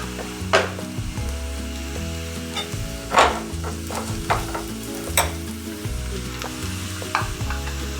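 Onion frying in a pan with turmeric added, a soft continuous sizzle broken by a few sharp spoon scrapes and taps, close up and without speech.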